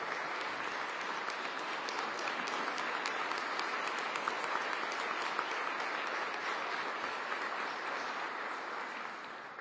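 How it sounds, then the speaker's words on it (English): Steady applause from the audience at a city mayor's budget address fills the room evenly, a dense wash of clapping with no speech over it. "Please give them a round of applause."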